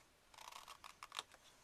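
Scissors cut paper at an angle while a pouch mini album is being made: several crisp, close snips in a quick uneven run, quiet, with no talking.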